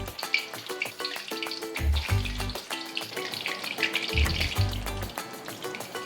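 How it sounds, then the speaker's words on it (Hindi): Chicken drumsticks crackle and sizzle in moderately hot oil, a steady frying hiss with occasional pops heard beneath rhythmic background music. "ऐसे ही हम सभी ड्रम स्टिक को स्टेप बाय स्टेप फ्राई करते जाएंगे"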